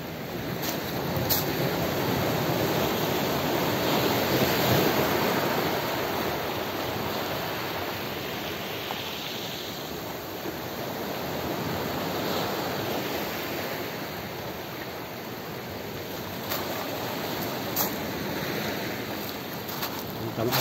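Sea waves washing against coastal rock formations in Japan, a continuous, even roar of surf with light wind across the microphone.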